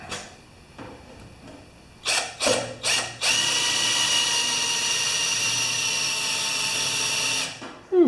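Power drill spinning up in short bursts, then running steadily for several seconds with a rough, grinding whine, as if the bit is dull, then stopping.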